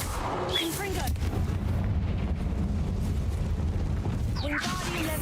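Confringo blasting spell going off in Hogwarts Legacy, a dense rumbling blast with a crackling low roar that fills the whole moment, loud and close, with brief fizzing spell effects at the start and end.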